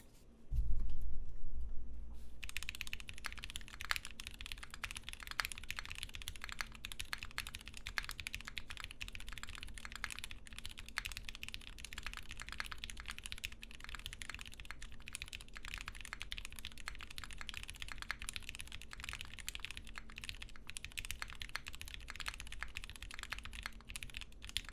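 Keys clatter in a steady, fast stream of close, crisp clicks from a Wilba.Tech Thermal+ mechanical keyboard fitted with Gateron Black Ink switches, after a brief louder thump at the start.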